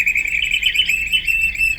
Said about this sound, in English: It's the call of our mystery bird.